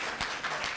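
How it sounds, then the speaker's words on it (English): Audience applause at an academic colloquium on South Africa's thirty years of democracy: a short, steady burst of clapping from a seated crowd, even in loudness with a couple of slightly stronger swells. "please give a round of applause"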